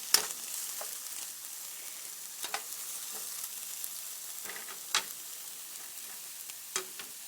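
Shrimp, green peppers, tomato, celery, carrots, onion and basil sizzling in a stir-fry pan, a steady quiet hiss broken by a few sharp clinks of a utensil against the pan.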